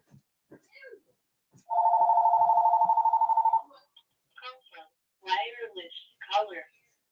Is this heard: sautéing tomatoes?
no